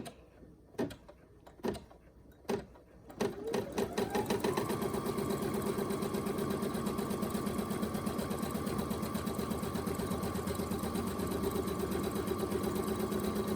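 An embroidery machine runs a few short starts, then stitches an applique piece held in the hoop for a key fob, settling into a steady, fast mechanical hum with rapid needle rhythm, close and continuous.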